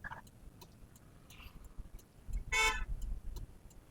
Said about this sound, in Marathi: आता ती गाडी जाऊ देतोय बघा मी